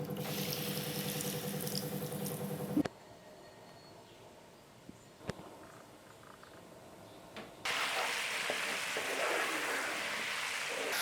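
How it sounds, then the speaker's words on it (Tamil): Half a glass of water is poured onto sugar in a pan while making homemade ginger candy, giving a loud rushing splash, then a quiet gap, then another steady gush of water. "சர்க்கரை கரையிறதுக்கு நம்ம 1/2 கிளாஸ் தண்ணி எடுத்துக்கலாம்."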